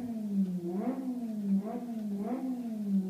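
A car engine in the Live for Speed racing game revs in three quick, rising blips over a steady idle drone, close and fairly loud, with no talking.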